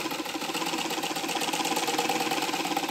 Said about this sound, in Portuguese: eu quero apresentar para vocês a máquina Eugin costurando